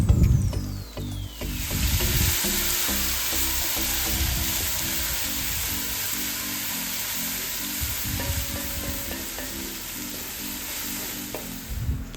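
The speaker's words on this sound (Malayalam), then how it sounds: "ഇഞ്ചി വെളുത്തുള്ളി പേസ്റ്റ് ഇടുകയാണ്. മഞ്ഞൾപ്പൊടി ഇട്ട് നന്നായി ഒന്ന് മൂപ്പിച്ചെടുക്കാം" Ginger garlic paste and turmeric sautéing in hot oil in a pan for chicken curry, a loud continuous sizzle with stirring scrapes, strongest at first and then holding steady, no voices.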